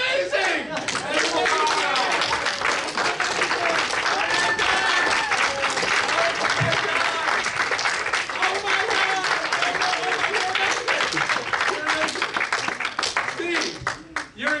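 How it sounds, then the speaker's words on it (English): An audience at a magic show applauds with loud, sustained clapping and cheering that fills the room for the whole stretch, then thins out at the very end. "Hey, this applause is for you."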